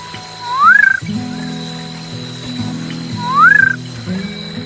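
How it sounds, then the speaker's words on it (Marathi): Night frogs at Castle Rock give two rising whistled calls about three seconds apart, clear over a steady low background drone, with insect-like hiss beneath. "या शिट्टी मारणाऱ्या बेडकाला समोरून प्रतिसादही मिळतोय."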